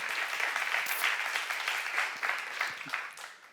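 A seminar congregation at a church breaks into applause, a brisk, even rattle of many hands clapping at moderate volume, continuous for a few seconds before tapering off, with no talk.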